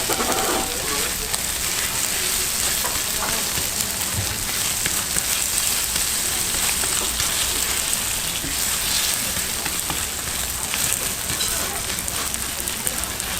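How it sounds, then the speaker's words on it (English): A chicken fried rice pancake sizzles and crackles steadily in a hot pan at a Seoul dakgalbi restaurant, a dense continuous frying hiss close by, with faint talk in the background. "The chicken fried rice pancake has been sizzling away for about a minute"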